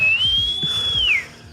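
A person imitates an elk bugle with one long, high, steady whistle that slides down at the end, close and fairly loud, over faint low thumps.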